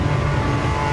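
Nissan Skyline GTS-R R31 engine in a racing video game, a steady, droning mid-pitched engine note holding at constant revs for about a second with no speech.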